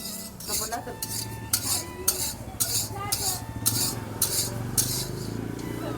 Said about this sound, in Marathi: हे बघा अशा प्रकारे तिळ भाजणी आपल्याला काळी करायची नाही लालबी करायची नाही